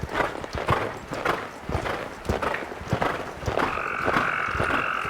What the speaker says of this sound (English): I want a nice collected canter.